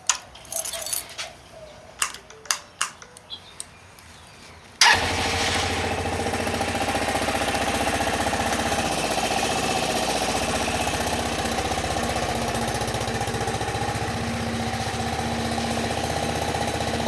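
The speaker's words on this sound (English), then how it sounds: "So I'm about to fire this up so that way you can see or hear how it sounds when it idles." Keys jingle and click a few times in quiet before a Venom x22GT 250cc automatic motorcycle fires up and settles into a loud, steady, rough idle close by that runs on without pause.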